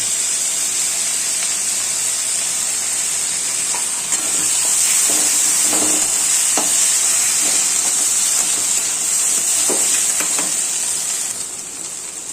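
Continuous loud sizzling of onions frying in a pan with ginger-cumin paste, with occasional stirring scrapes and spatters over the hiss.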